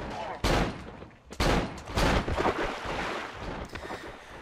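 Gunshots in the horror video game Cry of Fear, several sharp loud blasts, two big ones early and more around the two-second mark, with a noisy rumbling background.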